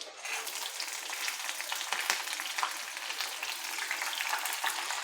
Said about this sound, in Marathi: मिरचीसुद्धा छान तेलामध्ये परतून घ्यायची आहे कच्ची राहायला नको